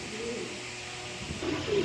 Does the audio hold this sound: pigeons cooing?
yes